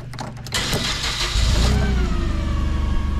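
A 2023 Ford F600 truck engine cranks and catches up close, then settles into a steady, even running rumble with a slight rev early on.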